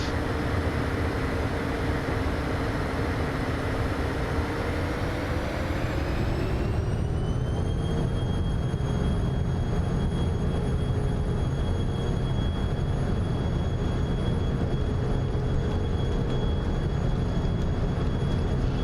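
Twin jet engines of a Phenom 300e spooling up on the takeoff roll in Microsoft Flight Simulator 2024, a steady loud roar with a whine rising in pitch, then holding at high power.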